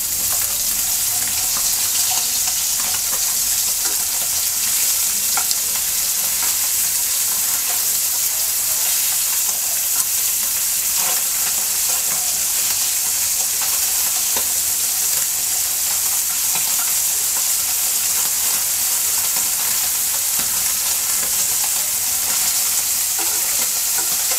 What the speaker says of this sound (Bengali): তেলটা গরম হয়ে গেছে মাছ দিয়ে দিচ্ছি মাছটা উল্টিয়ে দিচ্ছি